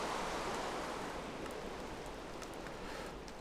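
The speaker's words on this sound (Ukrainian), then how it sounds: "Ой, дощ." Steady video game rain hisses as a dense, even wash of noise, continuous and unchanging, with a few faint clicks on top and no voices.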